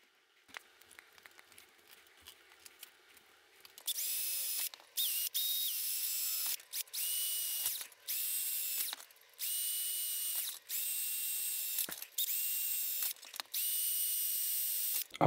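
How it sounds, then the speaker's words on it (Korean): A power drill bores holes into a plastic Barbie laptop case, quiet handling at first, then repeated loud whining bursts of drilling separated by short pauses. "자, 이제 또 구멍을 뚫어야 되겠죠."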